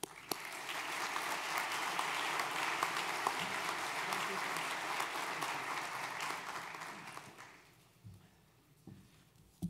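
Sustained audience applause fills a lecture hall to welcome the incoming speaker, a dense steady clatter of many hands lasting about seven seconds before tapering off into quiet room noise.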